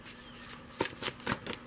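Tarot cards being shuffled by hand, a few quick soft riffling bursts up close in a quiet room.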